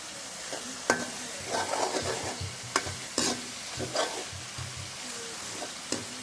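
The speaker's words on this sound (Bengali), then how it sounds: "মশলাটা বারবার নাড়তে থাকবো যেন ধরে না যায়" Masala frying in a pan for pangas fish bhuna, stirred again and again with irregular scraping and knocking strokes over a soft continuous sizzle, close up with no talking.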